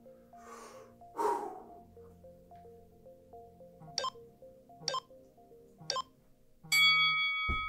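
Heavy breathing during an upper body mobility exercise routine, a few loud breaths and snorts early on, then short sharp sounds and faint tones, all close and without talk.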